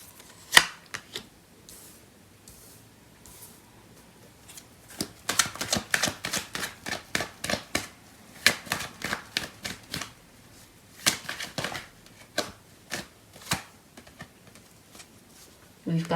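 Tarot cards being shuffled by hand, sharp crisp riffles and flicks in quick irregular bursts with quiet gaps between them.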